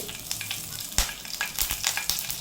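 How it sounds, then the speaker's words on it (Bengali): Nigella seeds hit hot oil for a tempering, giving a close, bright crackling sizzle with sharp pops and spits throughout, no voices present. "দিয়ে দিলাম আরও দু চামচ তেল ফোড়নে দিয়ে দিচ্ছি হাফ চা চামচ কালো জিরে"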